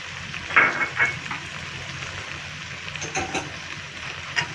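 Ground spices, garam masala and black pepper, stirred into hot oil in a frying pan, a steady soft sizzle with a few scraping strokes of the spatula and no voices.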